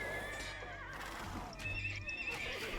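Horse neighs and whinnies from cavalry units in the video game Age of Empires 2, with clip-clop hooves and battle clatter underneath, fairly loud and continuous with no talk.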